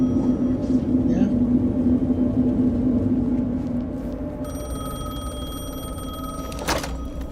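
Telephone ringing in the video game Alan Wake 2, played in VR, a steady electronic ring over a low ambient rumble with a brief sharp noise near the end, and a voice talks over it.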